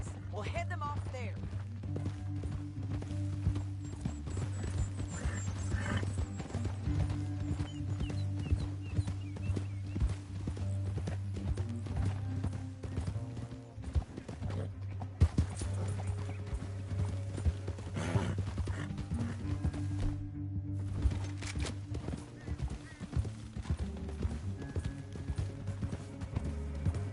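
Horses' hooves clip-clop steadily while riding through a canyon in Red Dead Redemption 2, a continuous rhythmic gait under game music and a low hum, with people talking over it at times.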